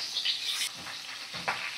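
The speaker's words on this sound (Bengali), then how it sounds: "একদম মিডিয়াম ফ্লেমে রেখে দিয়ে মাছগুলোকে ভাজছি।" Parshe fish frying in a pan over a medium flame, an even hiss of hot oil broken by a couple of soft spatula scrapes and bursts of spitting, no talk.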